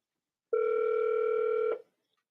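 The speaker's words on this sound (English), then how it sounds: "It's ringing." A single steady telephone ringback tone sounds during a call. It is a clear, sustained electronic tone of just over a second, heard alone with silence before and after.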